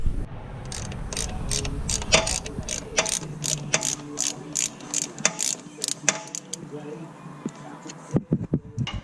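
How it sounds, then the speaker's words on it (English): A ratchet on an extension loosens a 6mm drain plug on a Can-Am Maverick rear differential, with rapid repeated metallic clicks in close bursts and someone speaking at times. "You're gonna go in there with a extension and a ratchet. You're gonna loosen that baby up."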